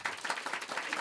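An audience at a stand-up comedy show gives a short burst of steady, rhythmic clapping for the greedy puppet, fairly loud and close, with a slight pulsing beat to the claps.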